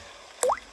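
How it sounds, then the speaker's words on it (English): A single cartoon water drop falls from a leaking roof into a bucket, a short, close, bright plip with a quick upward-bending tone against a faint, quiet background. "Daddy Pig is using a bucket to catch the drips."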